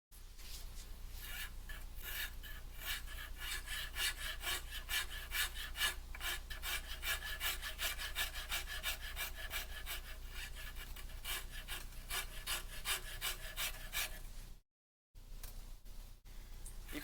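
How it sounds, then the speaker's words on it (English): A rasp files a wooden cabriole leg in fast, regular rubbing strokes, close and continuous, with a brief pause near the end before the scraping resumes. "And then transition to using the rasp."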